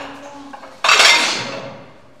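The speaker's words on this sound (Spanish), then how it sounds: "Muchos platos que he pisado." Ceramic plates crunch and clatter underfoot in an abandoned leprosy hospital's old bar, one sudden loud crash of dishes with a ringing, shattering tail that fades over a second or so, preceded by quiet footsteps.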